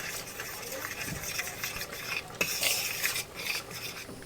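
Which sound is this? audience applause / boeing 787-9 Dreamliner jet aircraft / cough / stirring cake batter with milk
stirring cake batter with milk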